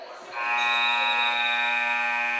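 A loud, sustained electronic buzzer in a basketball gym marks the end of the third quarter of a prep school game, holding a steady tone for about two seconds after a short burst of crowd noise.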